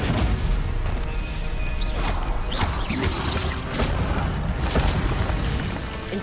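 Stupefy spell cast in the video game Hogwarts Legacy, a series of loud booming blasts and whooshing impacts layered over continuous game effects and music, with several sharp hits across the stretch.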